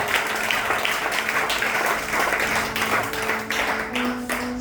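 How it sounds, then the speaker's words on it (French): A church congregation applauds continuously for a few seconds with dense, even clapping, while a preacher's voice carries over it. "Acclame Jésus, tu as compris"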